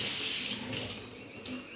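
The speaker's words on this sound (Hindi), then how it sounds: "अब हम इसको पानी में अच्छे से धो लेते हैं।" Chopped Barmarakash leaves are washed in water in a sink, with a continuous close splash and rush of running water, steady and moderately loud.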